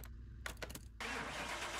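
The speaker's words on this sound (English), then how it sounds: "let's get her started up and see what she sounds like" A Porsche engine in Car Mechanic Simulator 2021 cranks with a few quick starter bursts, then catches and settles into a steady, loud idle.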